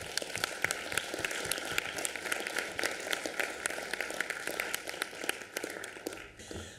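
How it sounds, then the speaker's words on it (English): Applause in a council chamber: a steady round of many hands clapping in dense, even patter for several seconds, fading slightly at the end. "I think we should have a quick round of applause for Sanjit as well."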